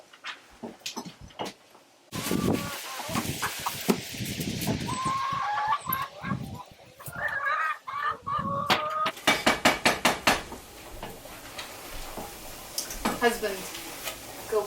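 Chickens clucking and squawking in a yard, with irregular bursts of calls, a few sharper louder cries, some clattering and background noise running throughout.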